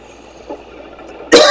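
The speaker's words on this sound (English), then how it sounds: "pardon my coughing" A person coughs loudly and abruptly at close range, one harsh burst at the end after a quiet stretch with a faint earlier throat sound.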